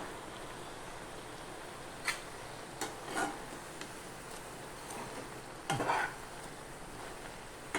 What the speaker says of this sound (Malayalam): നല്ലവണ്ണം തിളച്ച് വന്നിട്ടുണ്ട്